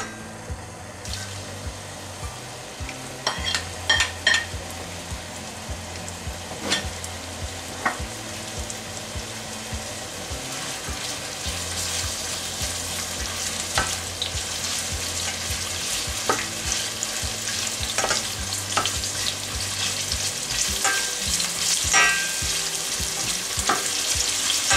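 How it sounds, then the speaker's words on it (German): Onions sizzle and fry in hot oil in a cooking pot, a steady crackling hiss that builds and stays loud throughout, with occasional sharper pops and clinks of stirring near the start. "Dann gebe ich die Zwiebeln in den Topf."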